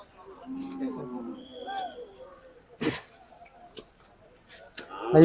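Hallikar calves and cattle moo at a cattle fair at Siddaganga Matha, a long low call followed by scattered shorter lows and sharp knocks, with people talking nearby.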